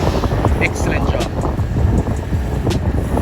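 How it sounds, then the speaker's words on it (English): Strong wind buffets the microphone at an outdoor cycle race in Jamaica, a loud, continuous rumbling roar with gusty texture that sits under and around voices. "Very windy day, a very, very windy day"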